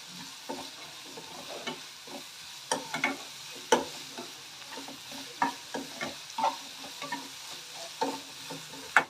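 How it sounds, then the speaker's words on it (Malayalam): Salted onions fry and are stirred in a pan as the base for a lady finger curry. A soft, steady sizzle with repeated stirring scrapes and clinks, heard alone with no talking. "ഓണിയൻ കുറച്ച് വേഗം മൂത്ത് വരാൻ വേണ്ടി കുറച്ച് സോൾട്ട് ആഡ് ചെയ്യാം."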